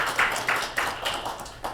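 A few people clap at a Democratic Party election campaign committee meeting in Busan, sparse separate bursts of hand claps rising and fading across a quiet room, fairly faint and without talk.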